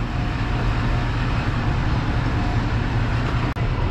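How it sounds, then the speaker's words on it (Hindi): Loud continuous rumble and rattle of the Sialkot Express pulling out of Sialkot railway station, a dense steady roar with a brief dip near the end and no talking. "तकरीबन पूरे 10 बजे Sialkot express Sialkot railway station से रवाना हो रही है"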